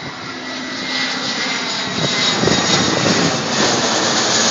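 A loud airplane roars overhead in East Boston, its engine noise swelling steadily and peaking midway before holding strong to the end.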